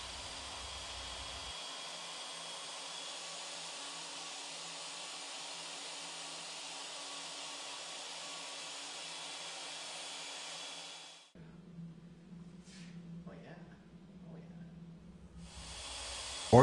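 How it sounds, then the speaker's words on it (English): A Legacy ornamental mill with a CNC upgrade carves wood with a loud, steady, hissing router whine for about eleven seconds. It then cuts out, leaving quieter, scattered mechanical sounds before the noise resumes at the end. "The Legacy ornamental mill is already the most versatile woodworking machine you can own. The CNC upgrade adds even more capabilities and automates the process."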